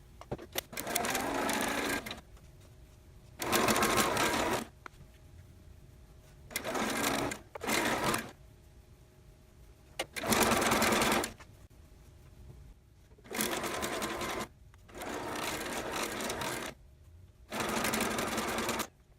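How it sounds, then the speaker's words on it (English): A sewing machine chain stitching quilt fabric pieces, running in eight or so short whirring bursts of a second or two each, separated by brief pauses, close and clear. "now I'm just going to chain stitch all of my 16 pieces to the opposite color"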